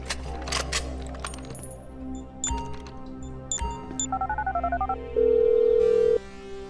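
A phone being dialed in Grand Theft Auto V: a few clicks and clacks, a quick run of rapid dial tones, then one long steady tone, all close and clear.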